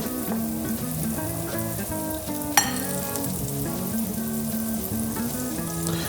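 Breaded pieces fry in a pan with a steady, busy sizzle and crackle, close and moderately loud, with one sharp clink partway through and no one talking.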